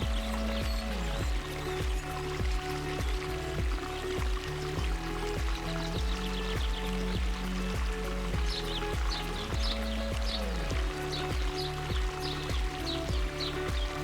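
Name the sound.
man-made waterfall on a diverted river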